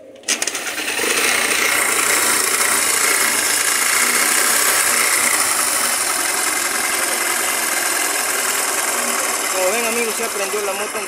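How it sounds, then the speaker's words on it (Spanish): A motorcycle repaired after a crash, with its exhaust pipe and carburetor refitted, fires up and settles into a steady, buzzing idle close by, continuing without a break, with speech over the running engine. "Ya prendió la moto, en delante no prendía."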